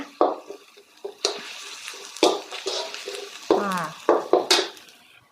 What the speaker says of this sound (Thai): คราวนี้เราก็จะ ผัดพริกแกงให้หอมๆนะ